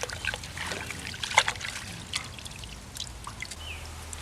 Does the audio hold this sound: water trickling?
yes